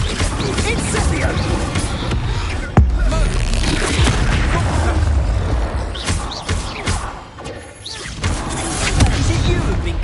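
Incendio fire spell blasts from Hogwarts Legacy, heard as loud booming bursts and crashing impacts with whooshes amid chaotic combat noise, under spoken voices.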